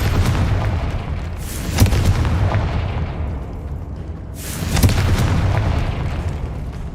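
Two booming blasts from a Confringo blasting spell in a Harry Potter video game on hard mode, each a loud burst that rumbles and fades over a couple of seconds, spaced about three seconds apart.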